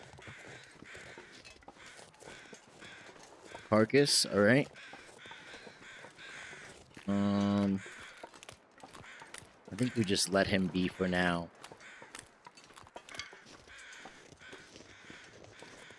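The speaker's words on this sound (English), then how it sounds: "We're going to see what those crows are calling about." Crows caw in a snowy wilderness in the video game The Long Dark, giving a few loud harsh calls in separate bursts, with someone speaking between and around them.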